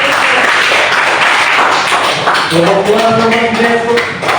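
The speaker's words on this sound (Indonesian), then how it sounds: "beri tepuk tangan" Students in a classroom clap for a classmate, a close burst of scattered hand claps that lasts the full few seconds, with a voice briefly speaking over the second half.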